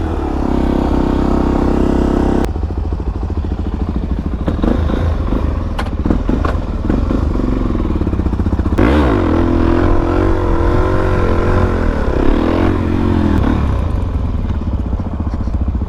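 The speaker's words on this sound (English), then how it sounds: "we got Jackie's bike warmed up for her" A Harley-Davidson Dyna motorcycle idles loud and close while warming up, its V-twin rumble steady throughout and broken by several throttle blips that rise and fall, with a couple of clattering knocks partway through.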